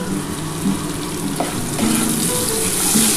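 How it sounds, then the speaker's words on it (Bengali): Onions sizzle and fry lightly in a pan for a Bengali duck-egg korma, a steady close crackle with occasional stirring scrapes and no talk. "আমার পেঁয়াজটা হালকা করে ভাজা হয়ে গেছে"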